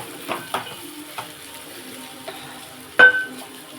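Two eggs frying in a pan for an egg fry, with soft continuous sizzling and a few light clinks and scrapes of a utensil stirring, one sharper knock near the end.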